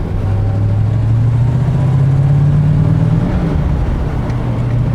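A Canadian Gullwing car with a 360 engine and a close-ratio 4-speed drives along with a steady, loud low engine drone whose pitch slowly climbs, then drops back at a shift and settles.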